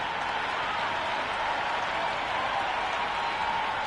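A stadium crowd in the Cricket 26 video game roars steadily before the first ball of an IPL match, a dense, unbroken wash of cheering and clapping holding at the same loud level throughout.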